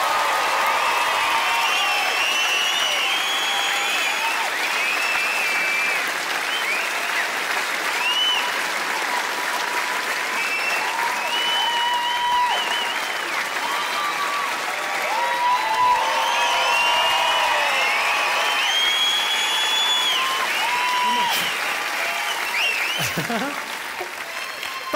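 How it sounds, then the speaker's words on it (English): A comedy show audience in Glasgow bursts into sustained, loud applause and cheering after Jimmy Carr's closing bow, a dense wall of clapping with scattered whoops that continues for the whole stretch. "That simple act of applauding, it's everything you work for as a performer"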